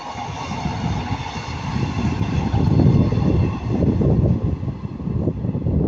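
Class 156 unit 156 411 passing at Ardwick, a steady rumbling low roar of wheels and engine that swells in the middle and holds fairly close, with no voices over it.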